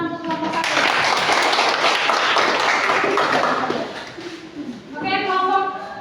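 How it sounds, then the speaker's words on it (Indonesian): Several seconds of dense clapping from a classroom audience after a group presentation, fading out as a voice begins speaking. "beri tepuk tangan untuk kelompok 1"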